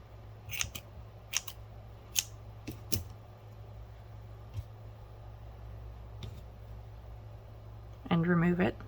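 Scissors snip crochet yarn during tapestry crochet color changes, several sharp, quiet cuts spaced out over a low background hum, with a voice speaking briefly near the end.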